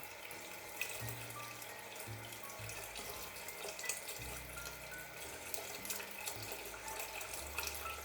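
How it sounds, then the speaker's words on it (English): Tap water runs steadily into a pot for cooking rice, a continuous splashing hiss with low gurgling tones rising and shifting as it fills. "Run the water until it reaches the middle of your finger."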